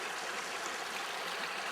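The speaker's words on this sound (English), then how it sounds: "All I've got is this running water here." Running water in a stream in a remote valley: a steady, soft rushing and trickling wash that continues evenly throughout, with no voices.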